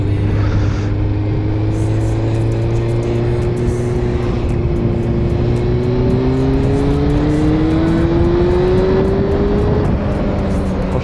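A Honda CBR 600F2 sport motorcycle engine drones loudly and continuously while riding, its pitch climbing gradually under acceleration, with steady wind and road noise.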